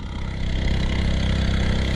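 A motorized wooden canoe engine drones steadily on the Singingi River, a loud close putter with even low rumble and no voices, holding constant throughout.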